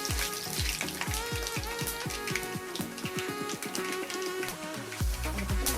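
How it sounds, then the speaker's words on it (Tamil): Black pepper frying in a hot pan, a steady dense sizzle and crackle of oil that runs throughout at close range. "மிளகு சேர்த்துக்கோங்க. சேர்த்துட்டு கொஞ்சம் வறுத்துடலாம்."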